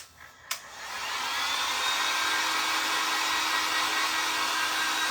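A hair dryer blows steadily on a homemade DIY patch after a brief click at switch-on, a close, loud, even whoosh that holds without a break.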